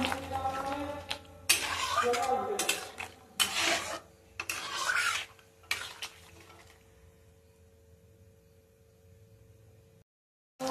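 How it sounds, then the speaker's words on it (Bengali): Salted chicken pieces being stirred in a pan give several scraping, rasping bursts of spoon against metal, close and fairly loud, with pauses between strokes and a quiet stretch at the end. "নুনটা দিয়ে চিকেনটা একটু নেড়ে দেবো"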